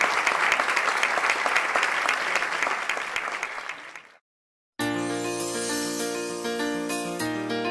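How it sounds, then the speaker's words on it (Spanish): A church congregation applauds loudly for a Marian image at a religious celebration, the clapping breaking off abruptly, then music with steady tones follows after a short silence. "¡Fuerte aplauso a nuestra madre!"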